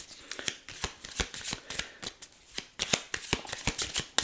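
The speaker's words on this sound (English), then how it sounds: "this is a little bit longer shuffling, but we are getting close to an end." Tarot cards shuffled by hand during a reading, a steady run of quick riffling and sliding flutters close up, continuing alone without talk.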